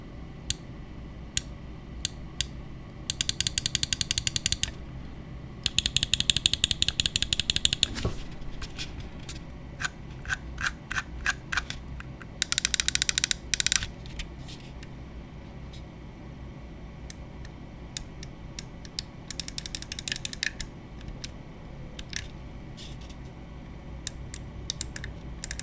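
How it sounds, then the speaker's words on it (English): Clicks from a DAREU A950Pro magnesium alloy gaming mouse: bursts of rapid, sharp ticks alternating with single isolated clicks, close and crisp over a quiet background hiss. "let's go ahead and drop a sound test so you can see what the clicks sound like"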